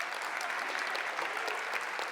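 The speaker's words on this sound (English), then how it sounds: "Give yourself a round of applause." A graduating high school class at a commencement breaks into dense, steady applause that fills the space, loud and sustained with no talk.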